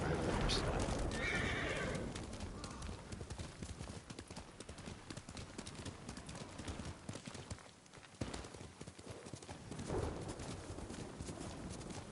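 A horse whinnies loudly near the start in Ghost of Tsushima, followed by a steady clip-clop of hooves running throughout, with a voice talking over it.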